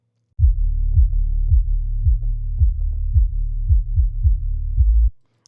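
Only the low-frequency band of a music track, split off for multiband compression, plays as a deep booming bass line with about nine regular, heavy thumping pulses before stopping abruptly.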